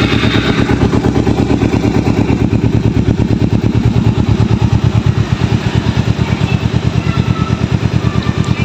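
A 2011 Kawasaki Ninja motorcycle engine runs steadily at close range, a loud, even, rapid exhaust pulse throughout with no talk over it.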